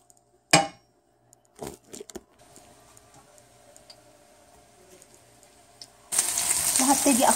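Sliced mushrooms drop into hot oil after a few faint clicks and bumps, and a loud, steady sizzle of frying then fills the last second or so.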